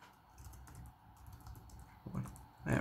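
Keys are tapped on a computer keyboard in a quiet room, a quick, uneven run of soft clicks that ends in a louder thump like a spacebar press.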